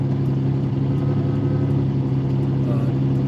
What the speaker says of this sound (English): Lamborghini Countach.